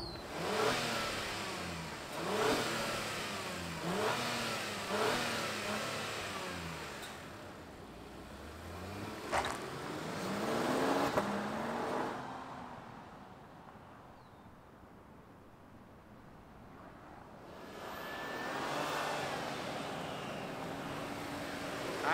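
A 2023 Acura MDX Type S SUV engine starts and revs repeatedly in rising, falling sweeps, settles into a low idle, then revs up once more, heard close and clear.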